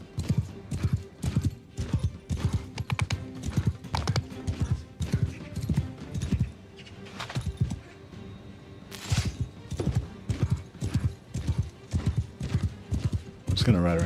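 Horse hooves in a video game clatter in a fast galloping rhythm with a short pause midway, and the horse whinnies partway through while a voice talks over it.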